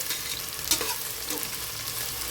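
Onions fry in oil for a Kashmiri-style mutton rogan josh, a steady close sizzle with a few stirring scrapes of the spoon against the pan as they brown, no talking.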